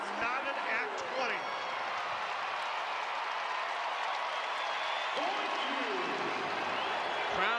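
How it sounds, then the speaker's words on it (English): A crowd at an NCAA women's volleyball match in Minneapolis, Wisconsin against Minnesota, cheers and applauds in a steady, loud roar through the arena while a commentator talks over it. "Crowd is into it here in Minneapolis."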